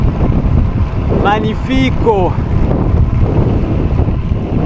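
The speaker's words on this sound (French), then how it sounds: "le vent toujours bien soutenu et toujours bien vent de face" Strong Autan headwind buffets a cyclist's microphone, a loud, constant roar of rushing air with a brief spoken exclamation over it.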